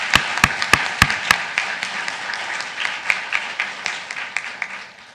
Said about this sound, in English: Please give a second round of applause to them for their dedication to our profession.